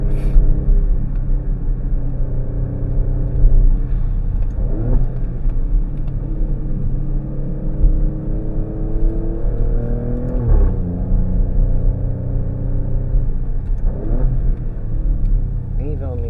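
A 2024 Alfa Romeo Stelvio Quadrifoglio's engine gives a steady low rumble that rises and falls as the car accelerates on a winding road, heard from inside the cabin.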